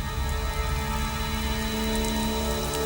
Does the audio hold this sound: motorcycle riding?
no